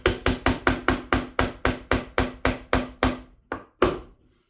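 A hammer drives a nail into a wooden birdhouse with a steady run of about a dozen sharp, close, ringing blows, slowing to a few last strikes before stopping.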